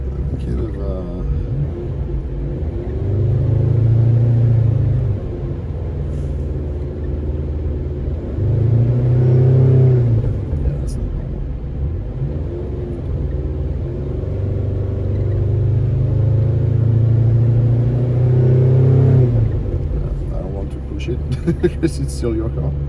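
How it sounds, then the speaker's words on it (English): A rare Maserati engine with an imbalance that appears when revved above 3000 rpm. It rumbles deep and steady, with repeated rises in revs, while people talk over it. "Yeah, but only when you rev it higher than 3000."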